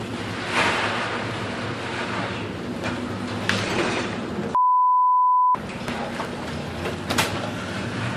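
Rough sea surges and crashes in a continuous loud roar, cut midway by a steady one-second electronic beep before the churning water returns.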